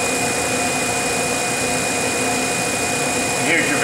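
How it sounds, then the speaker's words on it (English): A Varian SC200 vacuum pump running continuously on a Vacuum Atmospheres HE-243-2 glove box, giving a loud, steady mechanical whir with a constant whine, alone and unchanging throughout. "we put the Varian SC200 vacuum pump in here,"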